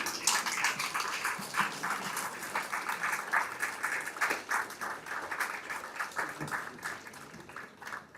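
An audience at a resort grand launch event gives a guest a standing ovation, sustained loud applause with dense clapping throughout, and a dog barks faintly in the background at moments.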